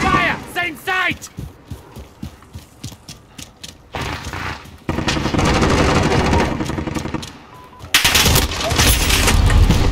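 Dragon's Breath shotgun rounds fired with a VLK firestarter in a video game, a rapid run of sharp blasts followed by dense, roaring bursts of fire that swell loudly toward the end, with a voice briefly heard at the start.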